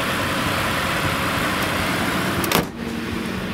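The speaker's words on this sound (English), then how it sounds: "There's the PowerBoost engine with the hybrid powertrain." A 2021 Ford F-150 SuperCrew with the PowerBoost hybrid powertrain runs as a steady, even broadband drone, close and constant, with a brief thump near the end.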